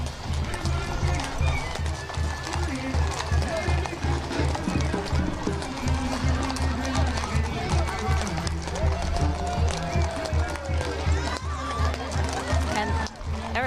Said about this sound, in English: Look at these gorgeous horses,